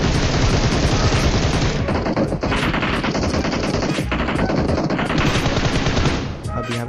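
Heavy gunfire in PUBG Mobile rattles on almost without pause, rapid automatic bursts and overlapping shots from several weapons filling the mix loudly before easing off near the end.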